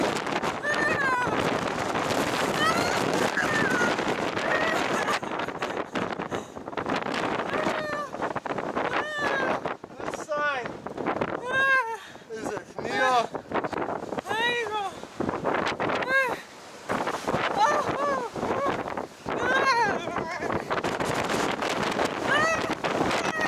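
Strong wind blows at Cape Point near Cape Town and buffets the microphone with a steady, loud rushing roar. People talk over it for the whole stretch.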